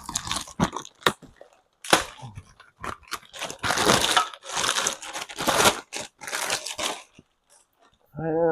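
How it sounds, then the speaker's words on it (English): Plastic packaging crinkles and tears as new car suspension parts, control arms with bushings and ball joints for a Subaru Tribeca, are unwrapped, in close bursts of rustling with someone talking over it. "let's get this one out of its unwrapping"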